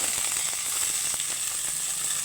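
Vegetables frying in a pan for a vegetarian dish: a loud, steady hissing sizzle runs throughout, with a few faint clicks and taps of the utensil, close and with no talking.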